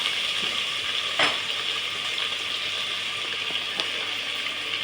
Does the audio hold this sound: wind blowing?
no